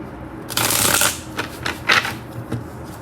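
Romance tarot-style love cards are riffled and shuffled up close, a crisp flurry of card flicks followed by a few shorter shuffling bursts and slaps.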